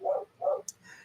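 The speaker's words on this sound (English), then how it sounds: "Sorry for the dog barking." A dog gives two short, moderately loud barks, then a faint high yip, all heard alone at a distance in a quiet room.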